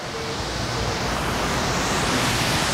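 Dray Sap waterfall in Dak Lak, Vietnam, pours in a dense, constant roar of rushing water, loud and close, with no voices over the broad wash of sound.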